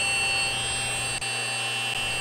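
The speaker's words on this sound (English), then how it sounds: "That alarm is telling us that the water temperature parameters are outside the settings that the temperature controller has predetermined." An aquarium temperature controller alarm blares a loud, continuous electronic buzz with a steady tone, a tiny dip in the middle, unbroken and alone.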